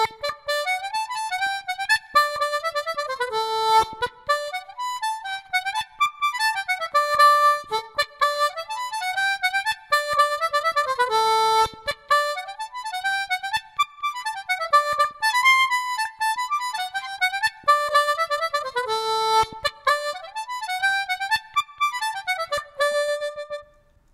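Harmonica in major cross tuning playing the fiddle tune Redhead Boy in third position, a quick, steady run of bright reedy single notes and chords that carries on without a pause and with no talking.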